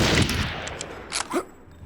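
Sniper rifle gunfire in the remastered Turok 3: Shadow of Oblivion, a loud opening shot with a decaying boom and a couple of fainter follow-up cracks within two seconds.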